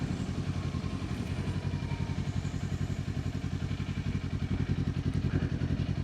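Motorcycle with a new exhaust cruising along at steady speed, a loud continuous rumbling engine note with a fast pulsing throb, close and dominant with no talking.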